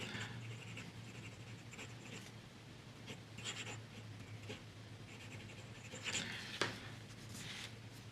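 Small fountain pen writing on paper with Monteverde Gemstone ink, a soft, steady scratching of the nib that comes close and quiet, with a few brief louder strokes and no talking.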